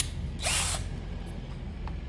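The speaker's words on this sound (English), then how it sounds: "Let's just drill out the mushroom" A power drill whirs briefly, close and loud, as it bores out the mushroom post on a Corgi Morris Mini die-cast model, with a short ratcheting burst and a low background hum.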